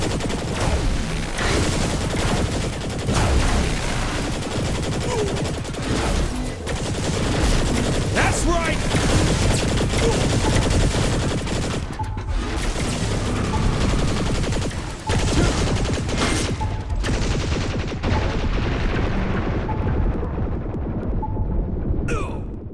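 Cannon gunfire in Saints Row The Third erupts in a dense, sustained barrage of loud booming shots with heavy throbbing low end, thinning out toward the end.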